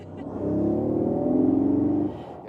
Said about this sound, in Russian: И этот электрический звук немного слышно.